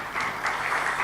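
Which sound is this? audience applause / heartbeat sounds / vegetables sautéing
audience applause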